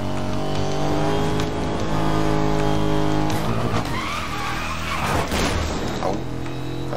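A racing car engine roars steadily while tires skid and squeal, with a rising screech near the middle, loud and continuous like arcade driving, in the video game Need for Speed: Most Wanted.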